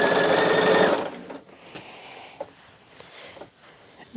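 Sewing machine stitching a Christmas gnome pattern, a loud steady whir that runs for about a second before stopping, followed by quiet handling with a few faint clicks and taps.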